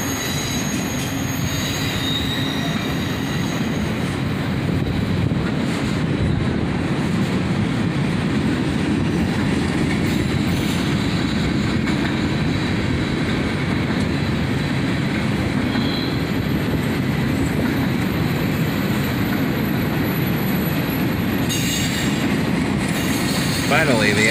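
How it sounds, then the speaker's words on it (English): A long CSX freight train rolls past close by, a steady loud rumble of wheels and cars with squealing wheel tones and faint clacking, continuous throughout with no break. "Finally, the end of the train was in sight."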